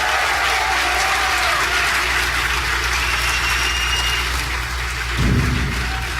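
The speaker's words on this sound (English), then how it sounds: "give them a round of applause" Sustained, loud audience applause, a dense steady roar of many hands clapping that carries on throughout without pause.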